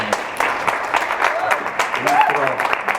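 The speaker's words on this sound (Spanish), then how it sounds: "Entonces, Yuri, un aplauso para" A crowd at an art festival in Mexico applauds, with scattered hand claps over continuous talking from a voice on a microphone.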